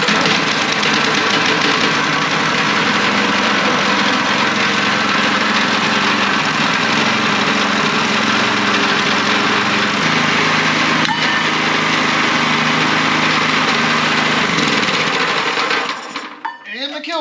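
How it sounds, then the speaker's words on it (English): The small engine of a worn, abused Kinetic log splitter idles steadily with a rough, knocking mechanical rumble for about fifteen seconds, then cuts out to near silence, followed by faint handling noises. "it'll idle, but it's not really revving up"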